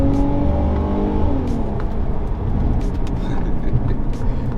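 A 2004 Infiniti G35 coupe accelerates hard at full throttle, the engine note climbing steadily and loud from inside the cabin.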